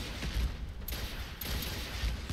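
An automated turret in the game Fallout 4 fires a rapid sustained burst of gunfire, dense and continuous across the moment with a couple of sharper surges.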